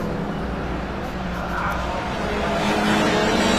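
Classic touring race cars running at Brands Hatch, a dense, continuous engine roar that swells slightly as they pass, with commentary talking over it.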